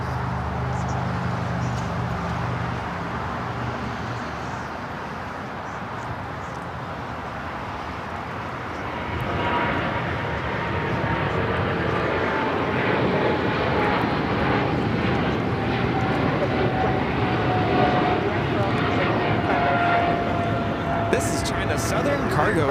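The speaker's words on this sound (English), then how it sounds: "Southern Cargo 446 taking off to Shanghai on the 777 freighter." Boeing 777 freighter of Southern Cargo taking off from runway 25 right at LAX, a broad engine roar that swells around the midpoint and holds steady, with a rising whine, under a voice talking throughout.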